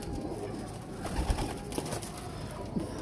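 Teddy pigeons with red eyes cooing inside a pigeon loft, low soft coos repeating through a steady murmur of flock noise, close and fairly quiet.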